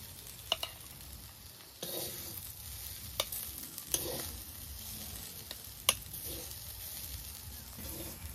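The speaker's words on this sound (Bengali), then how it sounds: "এই দেখুন শাকটাও ভেজে নিয়েছি।" Red spinach greens with peanuts frying in a pan, a steady sizzle broken by several scraping stirs of a spatula at uneven intervals, close and moderately loud with no voices.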